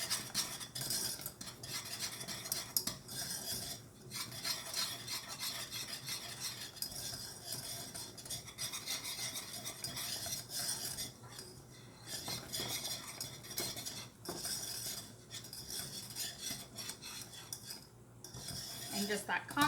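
A pot is stirred constantly and fairly quietly, with a spoon scraping and clinking against the sides in a steady rhythm for about twenty seconds. A faint sizzle sits underneath.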